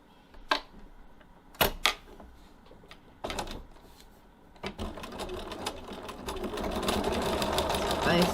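A sewing machine stitches tote bag handle straps near a D-ring: a few short bursts at first, then a longer run of continuous, close stitching.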